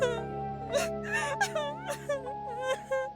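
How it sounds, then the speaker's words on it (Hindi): A girl cries as a horror sound effect, a series of short, wavering whimpers and sobbing wails rising and falling in pitch, heard close and alone over a faint sustained tonal background. "लड़की के रोने की आवाज आई।"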